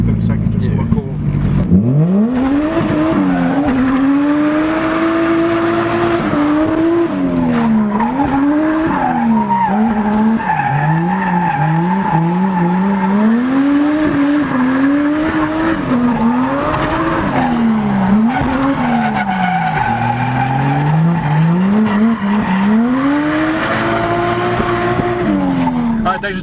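Toyota JZX90 fitted with an angle kit drifting, engine revving and wavering loudly while tires squeal and skid continuously for the full stretch, up close.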